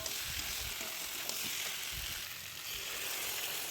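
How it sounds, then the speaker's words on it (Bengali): Young jackfruit pieces fry with spice paste in a pan, giving a steady, close sizzle with faint scraping as the mixture is stirred. "তো মশলাটা দিয়ে আর এঁচড়গুলোকে দিয়ে সুন্দরভাবে কষে নিচ্ছি।"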